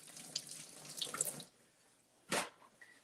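Tap water runs into a kitchen sink while vegetables are washed for a recipe, a steady splashing stream for over a second, then a brief louder gush near the end.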